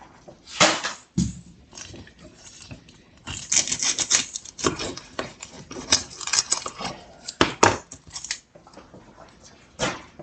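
A kitchen knife trims a bad spot from a vegetable, giving a run of sharp, irregular clicks, taps and scrapes against a hard surface, close and fairly loud, with no talking.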